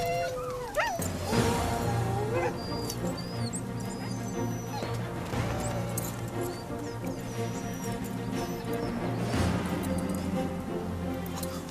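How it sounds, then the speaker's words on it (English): Restless huskies waiting to pull a sled whine, yip and bark, several dogs calling over one another in a continuous overlapping chorus of high whimpers and sharper barks, fairly close. "Huskies are originally from Siberia, where they've been used as sleigh dogs for centuries."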